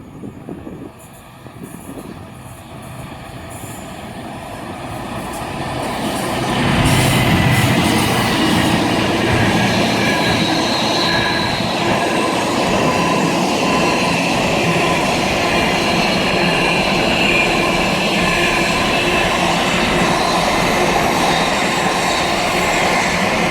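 A train on the West Coast Main Line at Hartford is heard first as a distant rumble that swells into a loud, steady roar as it passes close by. Continuous wheel and rail noise carries through the rest of the clip, and no one speaks.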